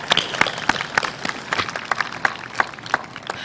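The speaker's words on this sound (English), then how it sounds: "Please join me in a round of applause for the faculty and staff that work each day to serve our students." Audience at a spring commencement ceremony claps in a scattered, moderate round of applause, individual hand claps standing out against a soft crowd wash.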